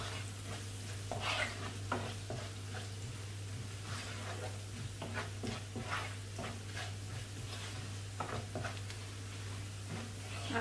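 Spices, cumin powder and turmeric, stirred in a frying pan with steady sizzling and repeated scraping strokes of a utensil, a constant low hum underneath, no talk.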